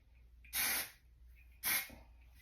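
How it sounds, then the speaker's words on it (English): A can of hairspray is sprayed onto a ponytail in two short hissing bursts, each about half a second long and a second apart, close and fairly quiet. "just spray a little bit"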